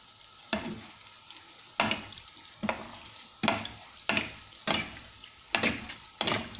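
Eggless beignets fry in hot oil, a steady sizzle punctuated by about eight regular, sharp utensil strikes or scrapes, close and fairly loud, with no speech.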